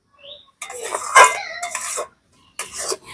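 A spatula scrapes and clinks against a pan while a coconut mixture for sandesh is stirred, giving short bursts of metallic scraping separated by brief silences, close up.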